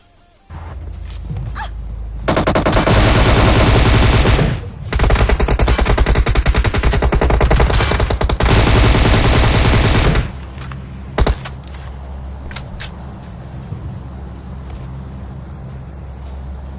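An M762 automatic rifle with a 6x scope fires in PUBG Mobile in two long, loud, rapid bursts with a short break between them, followed by quieter scattered game sounds.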